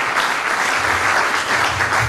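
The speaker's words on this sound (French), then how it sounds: "acclamez d'abord pour Jésus" A church congregation applauds for Jesus, a dense, steady wash of clapping and cheering filling the room without pause.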